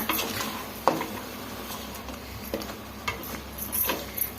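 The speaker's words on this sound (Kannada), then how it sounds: "ಮಸಾಲೆಯನ್ನು ಸೇರಿಸಿ ಈ ಥರ ಚೆನ್ನಾಗಿ ಮಿಕ್ಸ್ ಮಾಡ್ಕೊಳ್ಳೋಣ" Spicy chicken being stirred with freshly ground masala in a pan, giving a soft continuous sizzle with scattered scraping and spoon-clinking hits against the metal.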